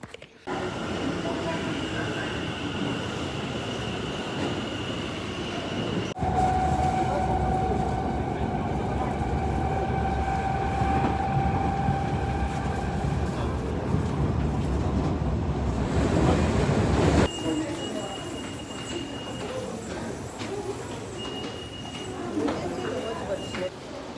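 A train pulls into a station in Japan with a steady rumble and a rising tonal whine, loud and close, then a sharp change as it settles and ambient station noise continues.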